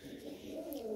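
One soft pigeon coo, close by but quiet, a short low throaty call with nothing else around it.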